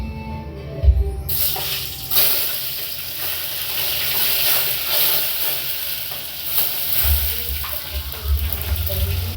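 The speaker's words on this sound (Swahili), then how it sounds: "Na uweke ya kitunguu ndani ya mafuta." Onions frying in hot cooking oil for fried githeri, a steady bright sizzle with occasional stirring clatter and low thumps, close and continuous throughout.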